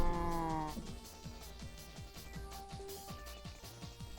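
A Minecraft cow lets out a single drawn-out moo at the start, fading within a second, followed by quieter game sounds and clicks.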